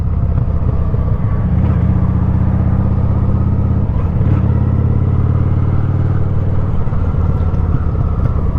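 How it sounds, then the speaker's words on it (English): A motorcycle engine revs steadily on the throttle while riding, rising and falling as the throttle is worked, loud and close with a continuous rumbling drone. "That's how you do gas on a motorcycle."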